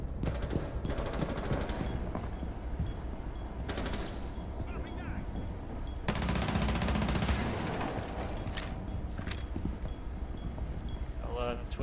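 Sustained gunfire in Rainbow Six Siege, with Twitch firing from a small hole in a wall, a dense rattle of rapid shots heard under ongoing voices and game noise.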